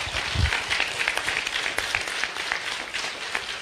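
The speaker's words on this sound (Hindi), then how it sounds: "एक बार खड़े होकर सम्मान में ताली बजाएं सब कोई" An audience applauds the Chief Minister at the closing of an international mega trade fair, giving a sustained, even clatter of many hands at moderate distance with a few louder claps and a low thump near the start.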